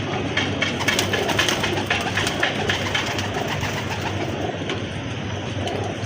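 Pigeons coo close by around a large bird-catching net, repeated soft throaty calls rising over a constant background rumble, with no one speaking.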